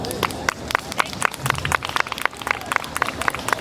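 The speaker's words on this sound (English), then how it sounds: "give yourselves a big round of applause for that" Audience at a Los Angeles Mission College student trustee candidate debate clapping, with sharp irregular claps from a modest crowd and a voice talking over them.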